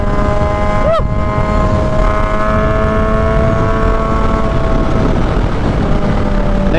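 Kawasaki ZH2 superbike engine howling at sustained high revs while riding, a loud continuous whine with a brief pitch dip early on, close and unbroken.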